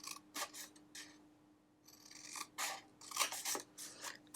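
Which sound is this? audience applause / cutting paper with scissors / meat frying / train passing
cutting paper with scissors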